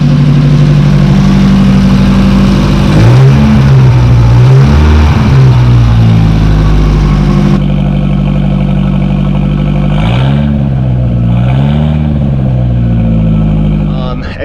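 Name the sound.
Porsche 924 turbo engine running with hacked-up exhaust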